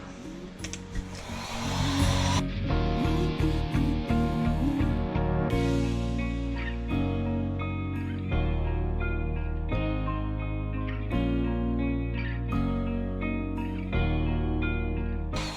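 A heat gun or hair dryer setting fresh paint on a musky fishing lure, a steady loud whirring drone that holds for the whole stretch with little change.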